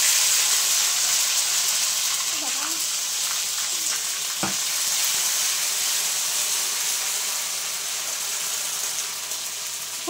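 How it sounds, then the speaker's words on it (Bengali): Spices and ginger paste fry in hot oil as a tempering for khichuri, a steady close sizzle and hiss running throughout with a couple of faint stirring scrapes. "খুব বেশিক্ষণ ভাজার দরকার নেই"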